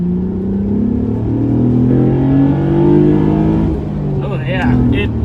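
A 2008 Honda Accord coupe with a V6 and manual gearbox revs hard in second gear during mid-corner driving, a steady loud engine drone climbing in pitch, with a shift-like change near the end.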